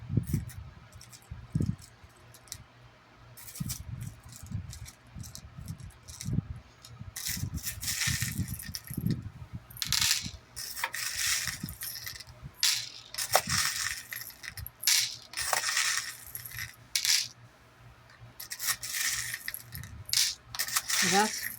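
Small metal spacer beads handled and poured, bright clinking and jingling rattles in irregular bursts, close and fairly loud, with occasional handling thumps.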